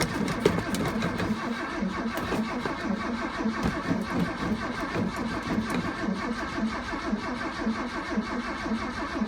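A 1979 Ford F-150 truck engine cold-starts on choke and keeps running with a steady, close mid-range rumble that never settles into a smooth idle.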